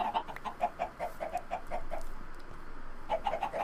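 Chickens on a video game chicken farm cluck in quick bursts of short repeated calls, a pause of steady background, then another clucking run, fairly close.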